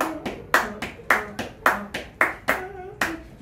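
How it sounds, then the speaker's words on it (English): Hands clap a syncopated rhythm, about ten sharp claps in uneven spacing, close and clear with no talk over them. "And you can even clap, you can practice with clapping."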